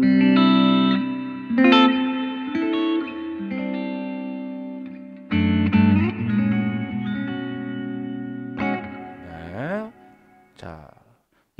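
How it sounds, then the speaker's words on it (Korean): Electric guitar played through a VOX MINI GO 10 amp with the hall reverb effect switched on, chords and single notes ringing out into a long spacious tail between phrases, loud and close, no talking over them. "그다음 홀리버브."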